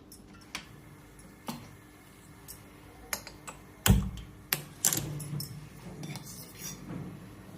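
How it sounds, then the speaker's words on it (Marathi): A gas stove is switched on in a kitchen, with scattered sharp clicks from the igniter and knob, then a louder burst of clatter as it lights. "गॅस चालू करते"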